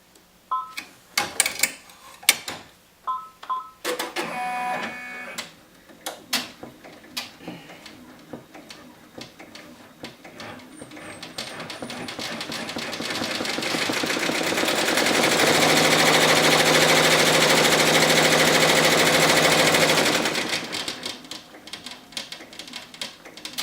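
An embroidery machine stitching a die line for pocket placement rattles out rapid, closely spaced ticks and clicks, then hums and whirs in a longer, louder stretch before easing off.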